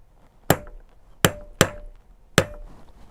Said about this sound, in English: I'm only needing to use the 1 pound hammer.